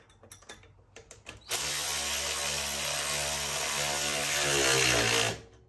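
A power tool whirs steadily for several seconds while tightening a 10 mm nut with a washer onto a bolt of a four-wheeler bought from Amazon, loud and close, with a few light clicks and taps beforehand.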